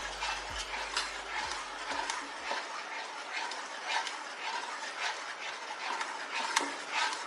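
Leftover-rice kinnathappam batter being stirred and mixed with a little salt, a steady soft scraping and swishing of spoon through thick batter in a bowl, close and continuous with faint clinks, no talking.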